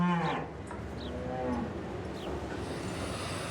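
A cow on a Bavarian alpine farm gives a loud, close, drawn-out moo that fades after about half a second, leaving a low rumbling outdoor background with faint distant calls.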